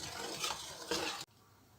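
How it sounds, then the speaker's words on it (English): A spoon stirs brown sugar and water in a cooking pot for bubble tea, giving two close scraping, swishing strokes before stopping abruptly. "And this is the sugar here. Just need to stir it."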